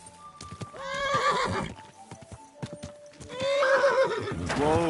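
Horse hooves clip-clop along while a horse gives two loud, wavering neighs in Kingdom Come: Deliverance II, the whinnies standing out near and clear over the steady hoofbeats.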